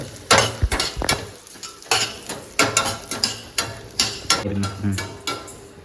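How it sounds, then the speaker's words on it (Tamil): Flattened rice (poha) being lightly roasted in ghee in a pan, with repeated scraping and stirring strokes of a spatula over a soft sizzle, close and fairly loud in an irregular rhythm. "கொஞ்சம் நெய் விட்டு அது கொஞ்சம் அவுள் சேர்த்திக்கலாம்"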